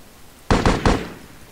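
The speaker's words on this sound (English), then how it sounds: "I missed a single shot." Three quick gunshots in the PC shooter Delta Force: Land Warrior, loud sharp cracks in a rapid burst with a short decaying tail, no talk over them.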